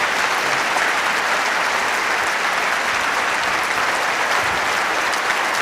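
Steady, dense audience applause fills the space, many hands clapping continuously and loudly at an even level throughout with no pauses.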